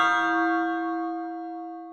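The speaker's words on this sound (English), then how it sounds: "hit that notification bell so you never miss an update" A single clear bell chime plays as a notification sound effect, struck once and ringing out with a bright, pure tone that slowly fades, alone and without talk.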